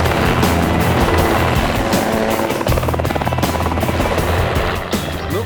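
A mustering helicopter flies low over an Australian cattle station, its rotor thudding loud and steady throughout with a dense, continuous chop and engine whine.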